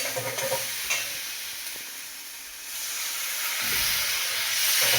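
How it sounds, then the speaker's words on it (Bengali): Spice masala for a rui fish and cauliflower cumin curry fries and gets stirred in a pan. A steady sizzling hiss swells and fades, with a few scraping stirs near the start. No voices are heard. "মশলাটা 2-3 মিনিট কষাবো"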